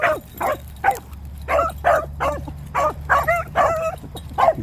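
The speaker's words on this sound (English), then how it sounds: "Just some barking when he shouldn't" A young hound pup fresh out of a starting pen barks and yips in a quick irregular series of sharp, near, fairly loud calls over a low steady background hum.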